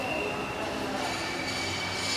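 A train in India rumbling steadily nearby, with a constant broadband roar and a faint high-pitched wheel squeal running through.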